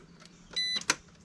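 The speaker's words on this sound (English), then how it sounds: "and we can hear beep." Short, faint electronic beep from a NEEY active balancer as it is connected to a Jakiper battery, a brief high tone followed by a small click in a quiet room.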